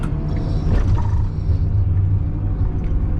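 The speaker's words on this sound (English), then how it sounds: "We got 5 trucks out here all at once." Several trucks idling and rumbling together in a farm field, producing a loud, steady low engine drone with no voices over it.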